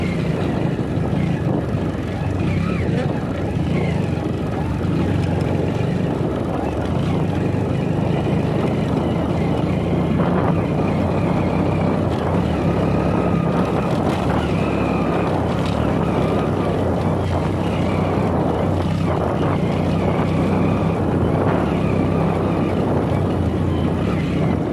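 Motorcycle engine running out of petrol, sputtering and jerking: a continuous loud engine drone with uneven surges under road and wind noise, close to the microphone.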